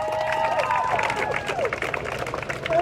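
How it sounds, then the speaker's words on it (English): A small street protest crowd claps and cheers together, a dense wash of applause mixed with shouts and voices throughout. "Clap it up for yourselves."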